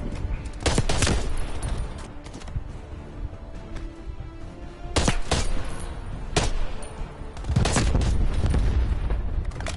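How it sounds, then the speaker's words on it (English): An AK-74U with no silencer fires in the game Call of Duty Cold War as several loud bursts of close, sharp shots spread over a noisy, continuous battle background. "AK-74U without the silencer."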